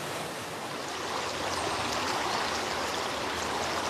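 A mill stream by a mill used for electricity generation rushes in a steady, dense wash of flowing water, close and continuous with no voices.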